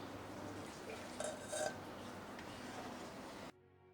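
A spoon stirs moong dal payasam with milk in a hot uruli, giving soft scraping and light clinks of metal against the vessel, fairly quiet and close, with one brief louder clatter before the sound cuts away.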